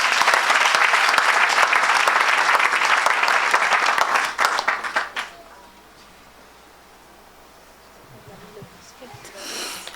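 Church congregation clapping loudly and steadily at a Saturday service, the applause dense and continuous for about five seconds, then breaking off into scattered claps and quiet room tone with faint murmuring.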